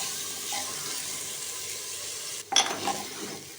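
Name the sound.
lentils being fried with spices in a pan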